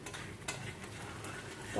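Spice masala for prawn malaikari fries in a pan as it is stirred, a low steady sizzle with a few soft scrapes over a brief moment.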